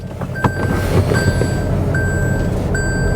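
Reversing beeps from a 2019 Toyota Altis 1.8 hybrid sedan with a rear camera: four evenly spaced high electronic beeps sound over a steady low rumble of nearby traffic or engine noise, with no voices.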